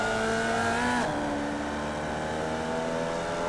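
Formula Vee race car in iRacing on Winton Motor Raceway, engine note dropping sharply as it downshifts to second gear, then holding a steady buzzing drone, loud and close with no talk.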